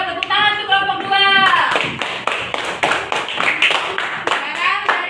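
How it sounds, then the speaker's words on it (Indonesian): Students in a primary school classroom clap together for a presenting group, a brisk burst of close, dense handclaps over a voice and chatter, then continuing as looser, uneven claps. "Tepuk tangan untuk kelompok 2."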